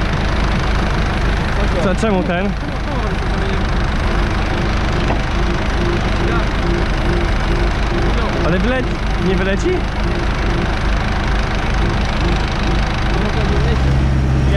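A tractor engine runs steadily during spring ploughing in the field, with a loud, continuous low drone and a few brief swells. People talk close by over it.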